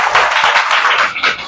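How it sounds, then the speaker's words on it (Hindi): Students in a classroom clapping their hands together, a loud, close burst of rapid, slightly uneven claps lasting a second or two. "ताली बजाइए"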